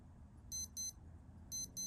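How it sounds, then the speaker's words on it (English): A Casio F91 digital watch alarm beeps in two pairs of short, high, thin pulses, quiet and close, separated by a brief pause. "Let's see if we can press the alarm."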